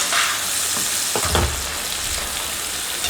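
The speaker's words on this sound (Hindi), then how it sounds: "फ्लेम को मीडियम कर दीजिए और इस तरीके से चलाते हुए हम प्याज को फ्राई करेंगे।" Onions sizzle steadily in hot oil in a pan for chicken biryani over a medium flame, with a couple of scraping stirs of a spoon through the frying, close and continuous, no voices.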